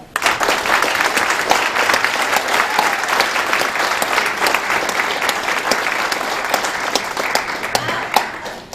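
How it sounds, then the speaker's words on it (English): Audience applause welcoming a guest lecturer to a brown bag lunch talk, a steady dense wash of clapping from many hands that holds evenly for about nine seconds, with a couple of sharper claps near the end. "let's give a round of applause and please welcome Beth Odell"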